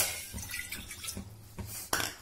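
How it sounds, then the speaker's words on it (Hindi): Half a cup of water poured into a pan for sugar syrup for gujiya, giving a soft splashing trickle with a few sharper drips and clinks near the end, close by with no talk. "अब इसमें हम हाफ कप पानी डालेंगे"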